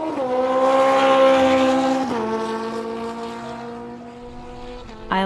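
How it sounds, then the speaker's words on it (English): A motorcycle engine drones steadily while riding, its tone holding then dropping briefly as it shifts and settles, close and fairly loud, with a sudden louder burst at the very end. "When I ride a motorcycle going home"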